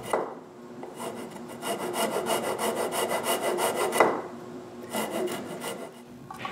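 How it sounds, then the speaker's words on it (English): A thin glued-on wooden strip filed to a long taper for a box, making close, steady rasping strokes in a regular back-and-forth rhythm with a brief pause, no voices. "When the glue of the thin strip is dry, I file a long taper."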